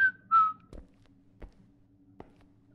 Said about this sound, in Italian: Ma basta con sti fischi di merda